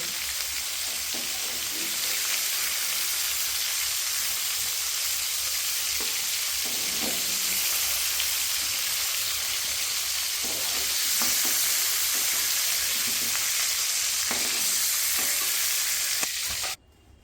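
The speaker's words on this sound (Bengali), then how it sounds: "তো আমাদের ফুলকপিটা কিন্তু বেশ হালকা হালকা ভাজা হয়ে এসেছে।" Steady, loud sizzling of cauliflower frying in hot oil, a continuous crackling hiss with occasional pops, close up and uninterrupted by talk.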